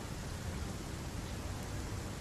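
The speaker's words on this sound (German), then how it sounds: "ach, es regnet wieder" Rain in the video game Satisfactory makes a soft, steady, even hiss, faint and unbroken throughout, with no voices.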